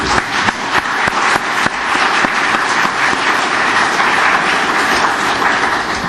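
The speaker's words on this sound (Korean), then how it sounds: "큰 박수로 한번 격려를 하겠습니다" Audience applauding at a public hearing on a private rental housing special act, a dense steady round of clapping from a roomful of people, loud and close, sustained for several seconds.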